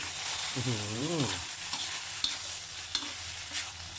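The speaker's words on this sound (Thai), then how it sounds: "ใส่กระเทียมลงไปบางส่วน ผัดพอเข้ากัน" Pork with garlic stir-fried in a pan: continuous sizzling with a few sharp spatula scrapes and clinks, and a short tonal hum early on, no speech.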